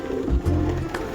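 Rescued pigeons coo softly and close by, a couple of low throaty calls within a brief moment.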